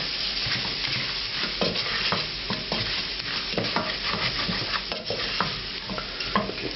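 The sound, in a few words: stirring lamb bhuna curry with ginger frying in pan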